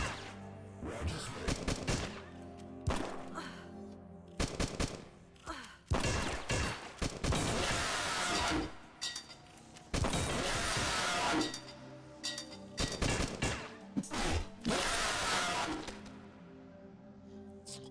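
Heavy barrages of enemy gunfire in the shooter Beyond Sunset, rapid automatic bursts repeating in clustered volleys with brief gaps between them, loud and close with metallic clinks mixed in.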